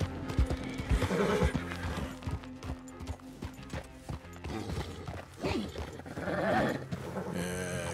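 A horse whinnies loudly over a busy Red Dead Redemption 2 game soundscape with hoofbeats and music, with a second whinny later and shouting voices in the mix.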